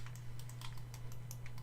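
Quick, light clicks from the buttons of a Razer Naga Hex gaming mouse, a close series of irregular taps over a steady low electrical hum.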